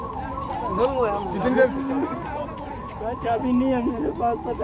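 Wailing ambulance sirens sound from vehicles stuck in a long highway traffic jam. Several rising and falling tones overlap at moderate distance while people talk in Hindi in the foreground.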